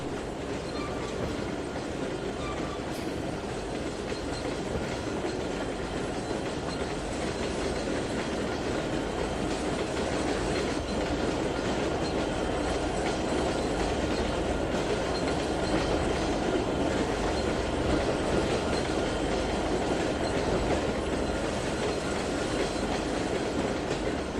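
Freight train with corn hopper cars in the Trainz 2019 simulation, rolling steadily with a continuous loud rumble and rhythmic clickety-clack of wheels, unbroken throughout and free of talk.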